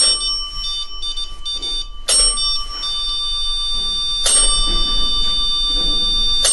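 A REM pod paranormal detector alarm beeps and rings continuously in steady electronic tones aboard the submarine USS Batfish, with sharp bursts of louder noise cutting in twice amid a low hum.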